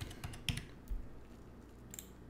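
A password is typed on a computer keyboard in a short, quiet burst of soft key clicks with a few scattered taps, close by and without speech.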